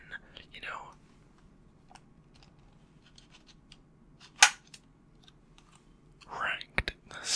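A handgun's slide is racked to clear it, giving a crisp metallic clack midway and another near the end. Soft whispered speech comes before and after.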